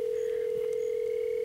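A telephone tone sounds as a number is dialed: one steady, loud electronic tone held without a break, close and alone.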